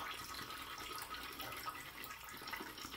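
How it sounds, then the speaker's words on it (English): Tap water runs steadily as more water is added to a bowl of Neon Moon shaving soap and a brush, a continuous near hiss of liquid with no talking. "I'm gonna add some more water."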